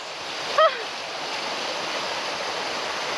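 Water runs steadily in a ditch right beside a narrow, slippery footpath, a close, constant rushing wash with a brief high chirp early on.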